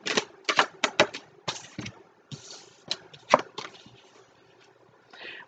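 Tarot cards are swapped to a new deck, shuffled and pulled: a quick run of crisp snapping and flicking card sounds in irregular bursts with short pauses, close and fairly loud, no speech.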